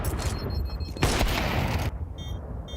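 Rapid bursts of rifle fire from a Counter-Strike match at an ESL Pro League esports event, dense and loud, with a sharper flurry in the middle before the firing thins out.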